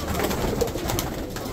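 Pigeons at a Baghdad pigeon market in the Adhamiya district, soft low cooing close by amid steady crowd bustle and background murmur.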